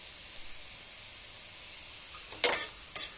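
Chopped ginger hits a hot pan with a short burst of sizzling, a brief loud crackle followed by a smaller second hiss against quiet background.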